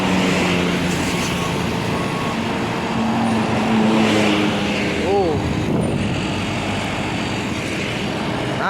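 A convoy of buses, including a Jet Bus 5, rolls past with continuous engine and road noise, broken by bright rising-and-falling horn tones around the middle; people talk throughout.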